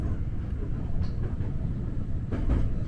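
A Nankai Koya Line train rolls through a level crossing near Asakayama in Sakai, giving a steady low rumble of wheels on rail with faint clicks.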